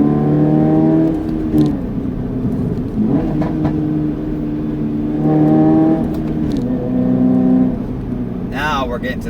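A Toyota GR86 engine revs under throttle from inside the car, a loud droning note that rises and falls in two or three pulls, with a person talking over it.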